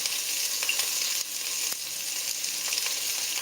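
Onions sizzling and frying in hot oil, a steady bright hiss with occasional crackles and a stir or two, close up and with no talking.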